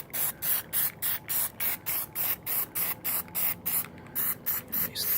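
A 2017 Cub Cadet XT2 42-inch mower's parts get coated with Plasti Dip from a spray can, about fourteen short, even hissing bursts in a steady rhythm, close up with no talk.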